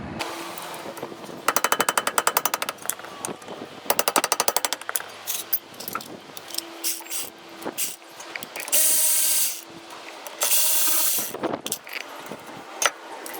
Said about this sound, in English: So removing the caliper, there's 2 bolts, one here and one here.